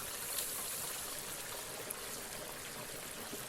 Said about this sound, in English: at this point, I'm frying the turkey.